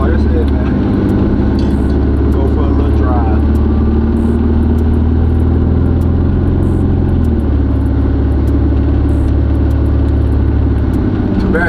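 A car drives through traffic with its new AC system running, giving a loud, steady engine and road rumble heard from inside the cabin, with a voice talking over it.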